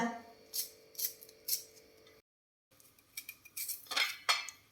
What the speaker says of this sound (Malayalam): ഉള്ളി അരിയ